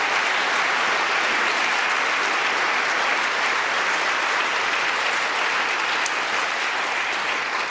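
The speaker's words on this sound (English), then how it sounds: "Give him a round of applause." A college audience gives steady, dense applause for a guest speaker, continuous and fairly loud throughout with no talking over it.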